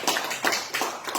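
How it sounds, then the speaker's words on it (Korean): A church congregation gives its chairman a short burst of applause, with close, rhythmic clapping that swells in quick pulses over about a second. "애 많이 쓰신 우리 회장님께 박수 한번 쳐드립니다"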